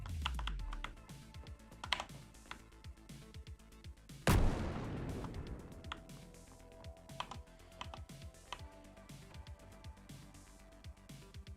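A single heavy grenade explosion from a game in development: a sudden loud blast amid scattered clicking and typing sounds, followed by a short decaying rumble, with no talking.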